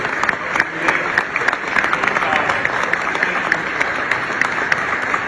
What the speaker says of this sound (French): Can we clap hands for them?